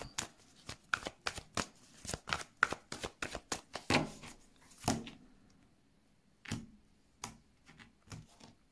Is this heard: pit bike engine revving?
no